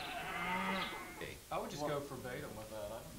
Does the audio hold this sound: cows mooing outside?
yes